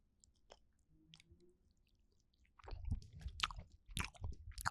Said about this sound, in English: you have the crunch of the sesame seeds on the outside